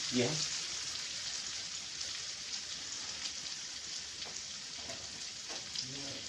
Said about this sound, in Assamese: পিঁয়াজটো অলপ ফ্ৰাইকৈ লৈছোঁ